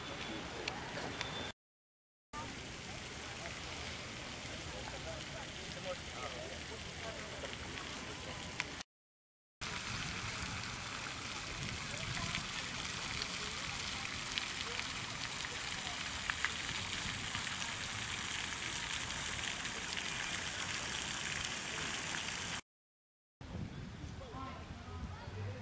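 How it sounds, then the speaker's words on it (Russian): Steady, soft hiss of light drizzling rain falling continuously in Cobourg, Canada, a broad wash of noise with faint voices murmuring underneath. "Моросит небольшой дождь"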